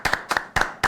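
A few people clapping hands close up in a small room during a Paraíba football react show, four short bursts of two or three claps each, loud and sharp, no talking.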